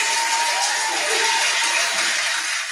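Long, steady applause from a comedy show audience, a dense wash of clapping that holds at an even, fairly loud level for the whole stretch with faint crowd murmur underneath.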